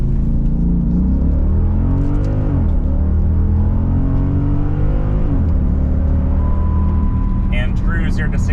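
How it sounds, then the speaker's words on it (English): A Jeep Grand Cherokee SRT8 launches for a 0–60 mph run at high density altitude. A loud engine roar climbs in pitch, drops at two gear shifts, then climbs again, with a brief chime near the end. "let's get to a 0 to 60, see how fast it is"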